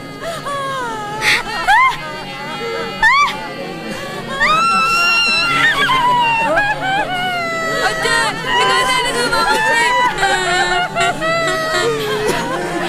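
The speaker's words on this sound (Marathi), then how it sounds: "कशा पाहिजे जमली एवढी गर्दी" Hubbub of a large gathered crowd, overlapping voices with wailing and raised cries rising and falling, dense and continuous at close range.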